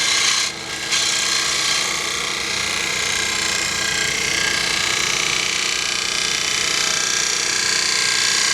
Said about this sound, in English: I can actually just use a scraper for this.